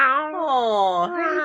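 A cat gives one long, clear meow close by, rising and falling in pitch over about a second and a half.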